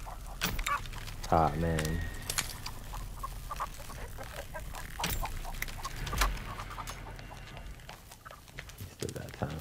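A chicken clucks in the farmyard of The Texas Chain Saw Massacre video game, short scattered clucks amid game footsteps and ambient noise, while a player talks briefly.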